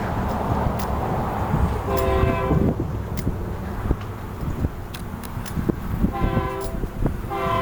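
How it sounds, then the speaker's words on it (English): Train passing at an amusement park, with rumbling wheels and repeated blasts of its horn in short bursts over scattered clanks and rattles, fairly close and loud. "There's the train."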